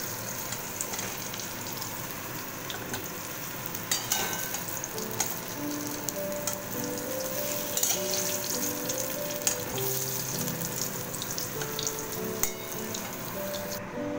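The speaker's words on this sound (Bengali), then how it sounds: "আলুগুলো মোটামুটি ভাজা হয়ে গেছে" Potatoes fry in oil with a continuous close sizzle, broken by scattered clinks and stirring scrapes and a faint low hum beneath.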